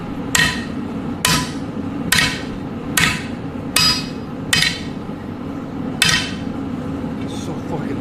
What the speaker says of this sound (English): So remember, the hammer goes like that a little bit.